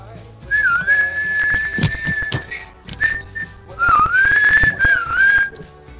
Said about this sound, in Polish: Mam cię gwizdnąć?